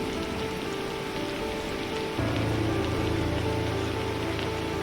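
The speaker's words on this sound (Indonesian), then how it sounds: "mendengarkan hujan yang mengetuk jendela" Steady rain patters against a window glass, a continuous dense tapping with no voices, growing slightly heavier and fuller partway through.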